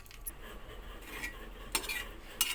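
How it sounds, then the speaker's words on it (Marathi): Dry grated coconut roasts with a little oil on a pan, heard as faint, soft stirring and scraping with a few light metallic clinks of a spoon against the pan. "या सुक्या खोबऱ्यामध्ये थोडंसं तेल घालून ब्राऊन होईपर्यंत भाजायचं."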